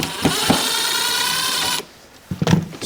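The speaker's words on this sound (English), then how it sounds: "So need my Phillips bit on my driver here, and I'm going to remove" A power driver fitted with a Phillips bit whirs steadily while backing out long shiny screws from a speaker grill on a plug-and-play sound system, stops abruptly, then a few light clicks and handling knocks follow.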